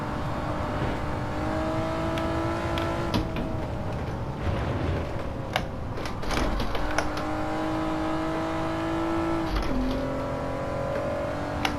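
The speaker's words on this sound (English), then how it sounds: "There's a four-wheel drift, pretty clean." A car in Gran Turismo 7 holds a four-wheel drift over curbs on both sides, its engine droning steadily with pitch shifts and small bumps throughout, loud and continuous with no talk.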